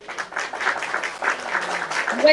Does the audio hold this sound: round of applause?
yes